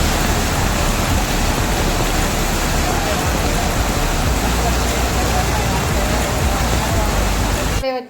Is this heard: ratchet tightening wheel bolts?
no